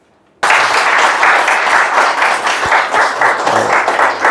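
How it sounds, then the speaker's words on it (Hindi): Studio audience applause greeting a BJP state spokesperson and MLA at a televised political event breaks out suddenly after a brief silence, loud and sustained dense clapping from many hands lasting several seconds. "जोरदार तालियों से स्वागत कीजिए।"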